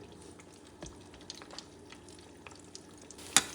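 Sweet black plantains fry in oil in a pan, giving a quiet, steady sizzle with scattered pops and crackles and one sharper clack near the end.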